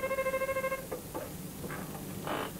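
A telephone rings over a maritime radio link while a call is put through to the on-duty doctor at Haukeland hospital: a steady pulsing tone for just under a second, followed by faint clicks and line noise.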